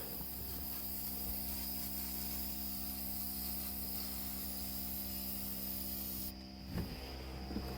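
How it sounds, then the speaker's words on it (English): Steady, fairly faint hiss of OFF insect repellent aerosol spray under a constant droning hum, with a brief knock near the end as the spraying stops. "With chasing it with the off spray. Like, it does not like being sprayed with off."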